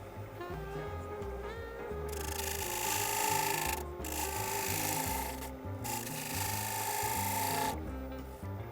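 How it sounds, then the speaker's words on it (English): Bowl gouge cleaning up the rim of a large wooden bowl spinning on a lathe, giving a steady, loud rasping scrape that comes in long passes broken by brief pauses, with the motor's low hum underneath. "The rim, I'm going to clean that up with the bottom bowl gouge."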